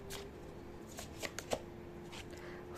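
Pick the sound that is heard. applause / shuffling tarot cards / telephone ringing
shuffling tarot cards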